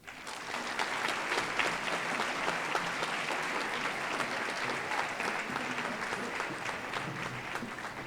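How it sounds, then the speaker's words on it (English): A large audience at a National Philanthropy Day awards event applauds an honoree, a full, steady wash of clapping that swells quickly and holds for about eight seconds. "Let's give Zach another round of applause."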